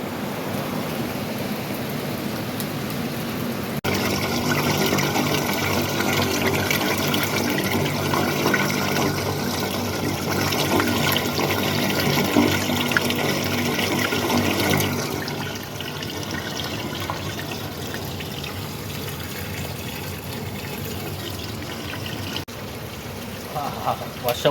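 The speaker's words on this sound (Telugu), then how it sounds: "కోయిట్లో వాన పడుతుంది, వడగండ్ల వాన చూడండి" Heavy rain with hail pours down in Kuwait as a dense, steady roar, rising sharply after a few seconds and easing slightly later, while someone talks excitedly over it.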